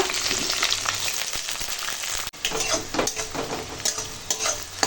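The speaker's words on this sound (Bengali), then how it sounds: "পেঁয়াজটা ভেজে নেব" Chopped onion sizzles steadily in hot oil with a bay leaf, a close, loud, continuous frying hiss broken by stirring scrapes and a brief dip partway through.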